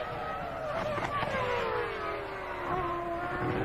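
McLaren Formula 1 car engine on track during 2002 Brazilian Grand Prix practice, climbing uphill toward the start-finish line; a steady high-pitched engine whine with a slowly falling pitch, loud and continuous throughout.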